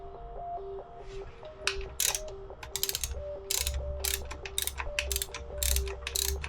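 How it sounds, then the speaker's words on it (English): A hand ratchet clicks in rapid bursts while tightening a timing belt tensioner bolt on a Subaru STI engine, the sharp pawl ticks close and crisp over a low background hum. "This bolt right here gets torqued down to 28 foot-pounds."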